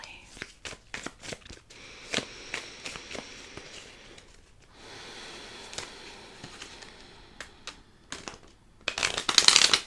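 Playing cards being shuffled in several crisp riffling bursts and soft flutters, close and fairly quiet, with pauses between passes and a louder flurry at the end in a calm, hushed room.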